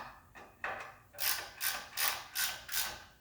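A hand ratchet snugs down engine mounting bolts on a Porsche 911 during engine installation, giving a quick run of close, crisp clicking strokes that grow louder and more regular partway through.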